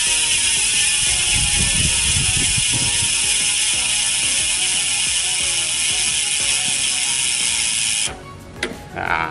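A carbon Luce bicycle hub freewheel ratchets loudly and rapidly as the spun wheel coasts. The clicking is close and steady for about eight seconds, then stops abruptly, leaving a few faint trailing noises.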